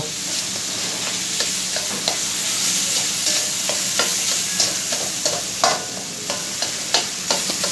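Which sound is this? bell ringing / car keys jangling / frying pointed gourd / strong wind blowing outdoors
frying pointed gourd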